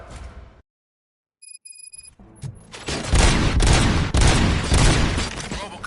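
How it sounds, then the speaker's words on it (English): Rapid bursts of gunfire in a RoboCop video game on PS5 erupt loud and dense after a brief silence and a few electronic tones, building into sustained, close fusillades. "Gunshots? What's going on?"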